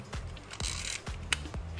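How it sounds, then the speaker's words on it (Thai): Agfa camera shutter curtain firing slowly in low light, several soft mechanical clicks and whirs spaced irregularly, close and quiet with no talking. "ม่านชัตเตอร์มันก็จะช้านะครับ"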